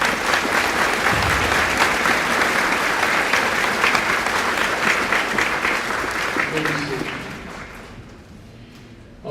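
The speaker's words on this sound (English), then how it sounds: "Would you please give them a round of applause?" A high school graduation audience gives a full round of applause, dense crowd clapping that holds steady for several seconds, then thins and fades toward the end.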